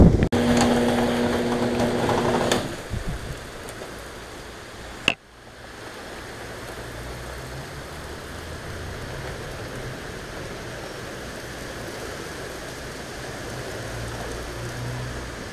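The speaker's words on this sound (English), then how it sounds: "Rain's coming down, pouring down" Heavy rain pours down outdoors as a steady, even hiss that carries on without letup, preceded by a brief humming noise and a sharp knock.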